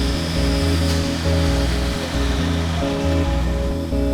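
A mozzarella cooker at the Crave Brothers cheese plant in Wisconsin, loaded with cheese in 170 degree water, runs with a loud, steady mechanical hum and a churning water rush throughout, with no talking.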